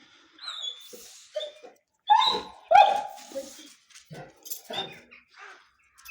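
A stray dog on a mountain road, its face scarred, gives short yelps and whimpering barks in a few separate bursts, close by, with quiet gaps between them.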